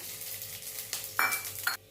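Hot oil sizzles steadily with whole spices, panch phoron, dried red chillies and bay leaves, in a wok while metal utensils clink against the pan in a few quick, close strikes.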